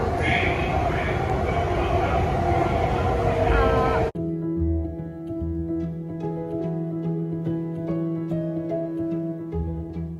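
Loud rumbling roar of a moving Delhi Metro train near Jasola Vihar, then a quieter steady hum with rhythmic clicks and tones as the carriage rolls along.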